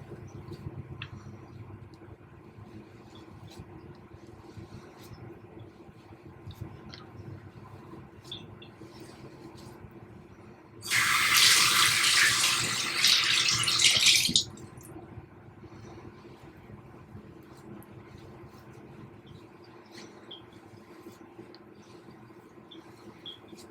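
Water runs from a tap for a few seconds as coffee scrub is rinsed off a face with a sponge, a steady close splashing hiss that stands out over quiet room ambience.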